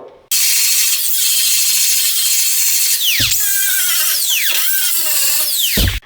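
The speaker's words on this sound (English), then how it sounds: "grinding it produces heat too and will warp it" A loud, steady high-pitched grinding whine of a power tool on Datsun car body metal, continuous for several seconds with brief dips in pitch as it bites.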